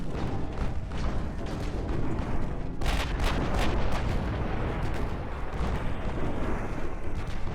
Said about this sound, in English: all guns on the Tumult, including the 16 inchers with high explosive